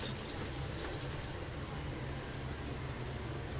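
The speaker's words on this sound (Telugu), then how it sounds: "ఇది మంచినీళ్ళ ట్యాపు." A kitchen drinking-water tap runs steadily into a sink, a continuous close gush of water with a slightly brighter splash at the start and no talking.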